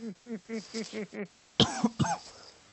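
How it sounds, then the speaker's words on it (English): A short series of rhythmic hums or throat sounds, then two loud, harsh coughs close by, followed by a fading breath. "That was me coughing."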